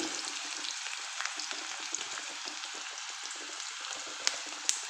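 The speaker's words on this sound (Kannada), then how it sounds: "ಆದ ನಂತರ ಎರಡು ನಿಮಿಷ ಈ ರೀತಿ ಫ್ರೈ ಮಾಡ್ಕೊಳ್ಳೋಣ" Chopped garlic frying in hot oil for a paneer pepper dry dish makes a steady, close sizzle, with a couple of light utensil taps near the end and no voices.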